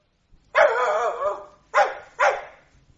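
A spaniel barks three times nearby: one long, drawn-out bark, then two short sharp barks in quick succession, with near silence between them.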